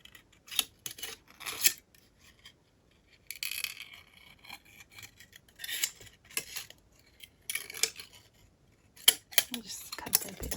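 Scissors cut through a thin aluminium drink can for a party-light craft, giving repeated metallic snips and crinkly scraping in irregular bursts, close and clear with quiet pauses between cuts.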